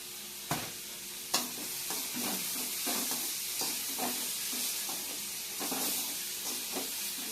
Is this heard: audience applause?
no